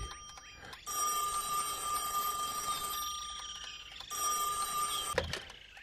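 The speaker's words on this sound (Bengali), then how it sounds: "দাঁড়া, ফোনটা ধরছি।" A telephone bell rings in two long bursts separated by a short pause, bright and insistent, with no talking.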